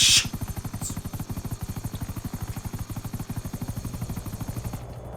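A video game helicopter flies with a steady, loud, rapid rotor chop that beats evenly throughout, with no talking over it.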